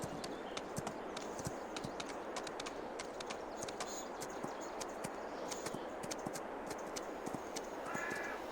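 Steady clip-clop of horse hooves ridden near stables in Farming Simulator 22, a soft, even walking rhythm under a wash of ambient countryside noise, with crows cawing faintly.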